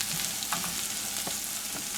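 Chopped onion and garlic frying in a pan, a continuous bright sizzle with a few light stirring clicks, close up and steady throughout.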